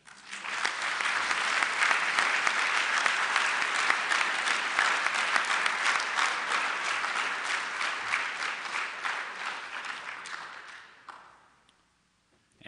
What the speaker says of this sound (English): Let us please give a round of applause to the Platinum sponsors and ASABE for their support of this event.